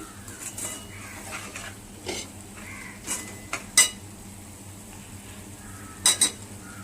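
A spoon stirs ginger-garlic paste and onion tempering in a pan, a series of irregular metallic scrapes and clinks over a quiet background, with two sharper clanks near the end.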